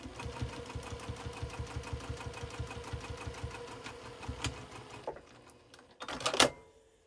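A sewing machine stitches a quarter-inch seam in quilting fabric for a small fat-quarter basket, running in a rapid even chatter for about five seconds, then stopping, followed by a brief burst of backstitching and handling noise.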